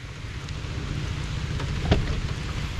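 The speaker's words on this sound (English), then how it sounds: "the rain is abating" Steady rain falls during a storm while easing off, a soft, even wash of drops spread across the whole stretch with a faint low rumble beneath, fairly quiet and without voices.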